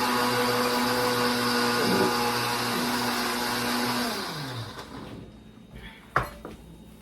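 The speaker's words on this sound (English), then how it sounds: "The pepper in the blender." A kitchen blender grinds peppers for egusi soup, a loud steady whirring drone that winds down about two-thirds through, followed by a sharp clatter.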